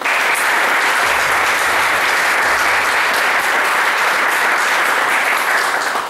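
An audience at a James Bond fan convention applauds, a loud, dense and sustained wash of clapping filling the room with no voices over it.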